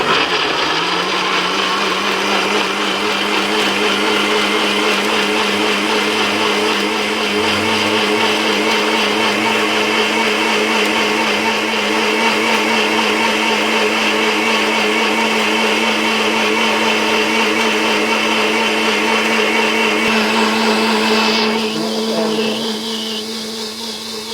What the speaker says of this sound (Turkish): Ve blenderımı çalıştırıyorum